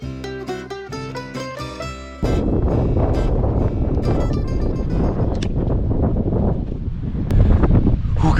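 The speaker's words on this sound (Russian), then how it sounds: "Какой сильный ветер, поднимаемся." Strong gusty wind on Santorini, Greece, roaring loudly against the microphone after a brief opening of music, steady buffeting noise that swells toward the end.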